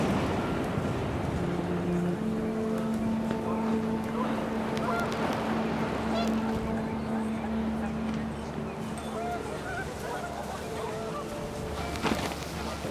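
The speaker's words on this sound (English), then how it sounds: "The wind picked up and panicked geese appeared and quickly went." Panicked geese honking in the video game What Remains of Edith Finch, repeated loud honks over gusting wind, with a narrator speaking over the flock throughout.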